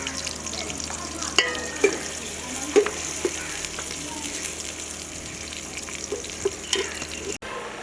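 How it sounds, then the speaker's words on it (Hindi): Finely chopped onion sizzles in hot oil in a pan for spinach and potato sabzi, a steady soft frying hiss with occasional stirring clinks and scrapes, close and moderately loud, no talking. "एक प्याज है बारीक कटा हुआ, ये शामिल कर लेंगे। प्याज को थोड़ा सा भून लेंगे।"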